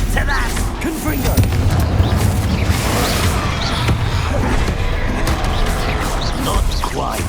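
Confringo blasts from the Hogwarts Legacy spell, a dense roar of fiery explosions and booming impacts in constant succession, with a voice shouting the spell over the din.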